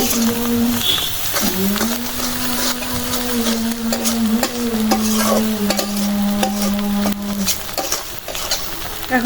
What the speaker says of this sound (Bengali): জিরার গুঁড়া মশলাটা তেলে একদম ভাইজা নিলাম এখন